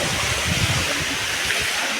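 Steady rushing of a small waterfall at a hill station in Tirumala, a continuous splashing hiss with no voices, fairly close and even throughout.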